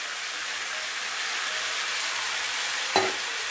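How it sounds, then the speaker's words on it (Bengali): Vegetables fry with a steady, soft hiss in a pan, and a single clink of a utensil on the pan stands out near the end. "তো ভালো করে নেড়ে চেড়ে সব কিছু ভাজাভাজি করে নিয়েছি।"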